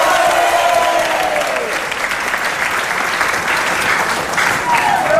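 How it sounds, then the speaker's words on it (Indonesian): A studio audience at a talk show applauds loudly and continuously, a thick wash of clapping with crowd murmur and a voice faintly audible beneath. "Tepuk tangan tuh semuanya."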